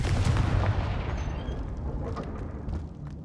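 In the Hogwarts Legacy video game, a Confringo fire spell bursts in a loud, booming explosion that rumbles and fades over a few seconds, with faint crackles trailing off.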